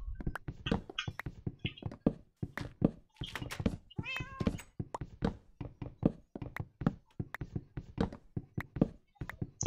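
Minecraft cat meowing repeatedly in a quick series of short, fairly close calls, mixed with soft knocking and tapping sounds and no talk.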